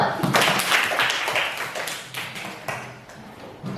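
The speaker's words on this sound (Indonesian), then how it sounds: "Oke, tepuk tangan dulu." Classroom students clap their hands together, a lively patter of many claps heard nearby that softens slightly toward the end.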